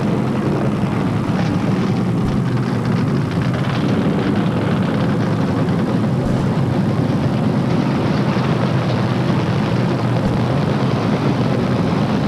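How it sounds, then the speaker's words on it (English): Forty NASCAR Winston Cup stock cars fire up at Pocono International Raceway for the 1993 Miller Genuine Draft 500, a dense continuous low engine roar that stays loud and steady throughout with no talk over it. "Traditional command being given to 40 racing teams to fire up their motors and be ready to do battle here this afternoon at Pocono International Raceway."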